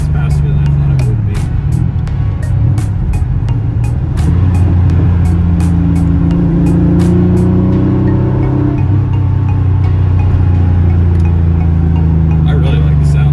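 A Porsche 911 Carrera Targa engine drones loud and steady on a hot lap through a neighborhood, its pitch climbing and dropping through gear changes, with people talking over it throughout.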